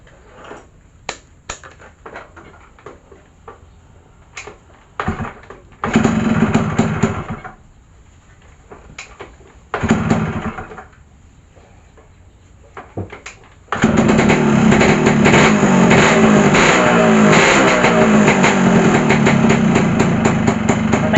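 A Suzuki RS100 motorcycle engine after an ignition switch install is kicked over several times, with short bursts of running that die out, then catches and runs steadily and loudly to the end, no talking.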